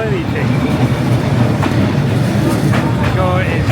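A long train rolls slowly along Hanoi Train Street, its wheels clattering and clicking steadily on the rails under dense crowd noise. A voice murmurs faintly in the background throughout.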